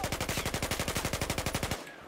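Rapid automatic gunfire in the video game Battlefield 1: a fast, even burst of about twenty loud shots that stops abruptly, leaving a faint tail.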